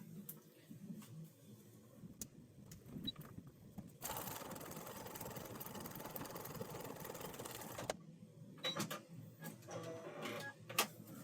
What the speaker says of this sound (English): So I'm just going to sew all the way across.